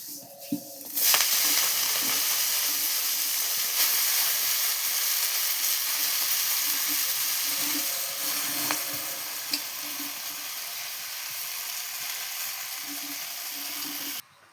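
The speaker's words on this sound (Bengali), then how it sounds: "কড়াতে ফোড়ন দিয়ে দিলাম এর মধ্যে এবার শাকটা দিয়ে দেবো" Leafy greens frying in a wok over tempering spices, a steady loud sizzle with occasional stirring clatter running the whole length, no voices.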